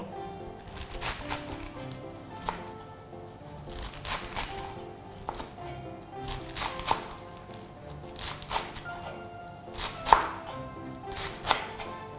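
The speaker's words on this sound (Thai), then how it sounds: "แล้วก็ซอยกุยช่ายเนี่ยให้ความยาวเนี่ยประมาณครึ่งเซนติเมตรถึง 1เซนติเมตร ค่ะ ก็หั่นเลย" Knife chopping Chinese garlic chives into short pieces on a cutting board, a steady series of crisp close chops in bursts with brief pauses.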